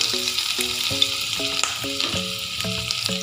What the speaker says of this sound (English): Heat some oil in a pan. Add garlic,